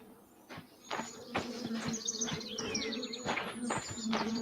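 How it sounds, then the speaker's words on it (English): Bees buzz around a tree off a path in the video game The Vale, a steady insect drone with soft rhythmic clicks and faint bird-like chirps, heard alone without speech. "I hear the bees. I don't see them."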